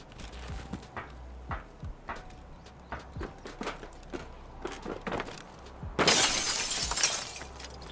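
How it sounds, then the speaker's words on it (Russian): Glass shatters loudly underfoot after a run of repeated footstep clatters as a player jumps down from a metal ladder onto a pile of debris in a dormitory in Escape from Tarkov. "Тут, конечно, звук битого стекла может спалить"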